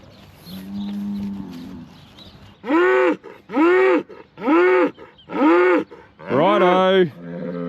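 Dairy cow on a working farm mooing loudly and close, five long bellowing calls in a steady rhythm after a quieter lead-in with faint background sounds.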